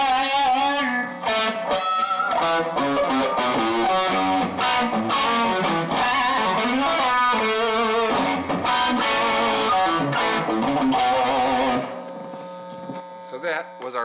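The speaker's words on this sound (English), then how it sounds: "adding some distortion" Distorted electric guitar plays a busy riff of chords and single notes, then lets the final chord ring out and fade.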